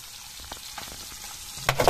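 Large local fish frying in hot oil, a continuous close crackling sizzle with a few soft pops, swelling louder near the end as the oil spits, with no voices.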